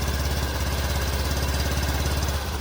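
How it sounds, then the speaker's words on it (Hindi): A Honda Activa 125 scooter engine idles steadily with a low, even, rapid putter from the exhaust. It is close and continuous, with no voices. "एग्जॉस्ट की नॉइज सुनिए 125 की।"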